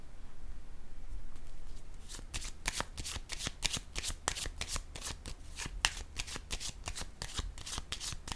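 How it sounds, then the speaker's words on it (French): Tarot cards handled on a table, with a quick run of crisp, evenly spaced card snaps and riffles that carries on steadily and close up, with no voice over it. "Je vais déposer une autre carte ici."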